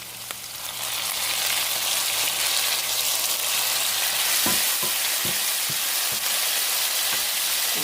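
Garlic sizzles loudly in a hot pan over a high flame while being cooking for lomien made with spaghetti noodles. The frying hiss is close and steady, and a few soft clicks of stirring break through it.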